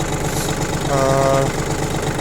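The diesel engine of a Yanmar Japanese garden tractor idles steadily nearby, a continuous low rumbling throb with a brief faint tonal whine in the middle.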